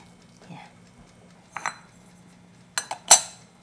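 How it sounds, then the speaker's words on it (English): A utensil stirs melting sugar in a pot in a home kitchen while Korean braised pig's trotters are made. A few scattered metallic scrapes and clinks come up close and sharp, with quiet pauses between them. "Until the sugar is well melted, just stir this."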